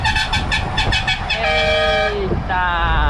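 A loud, multi-toned, newly installed truck horn blares in several bursts over rumbling road noise, with a long sustained blast and a final honk.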